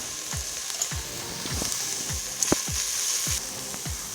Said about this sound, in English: And quickly saute it for again 30 seconds or so.